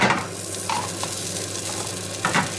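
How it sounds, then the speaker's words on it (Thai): Steady sizzling of vegan butter frying in a hot pan over medium heat, a continuous crackly hiss with small pops, close and fairly loud, no talking. "หาตั้งกระทะขึ้นมานะจ๊ะ เดี๋ยวเราก็ใส่ เนยเจลงไปค่ะ"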